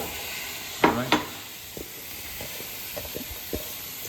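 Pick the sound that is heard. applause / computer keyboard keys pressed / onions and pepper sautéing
onions and pepper sautéing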